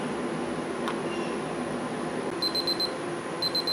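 Steady background hum, then a small cooking thermometer alarm beeps in quick repeated bursts near the end, sharp and high-pitched, while smoking ribs.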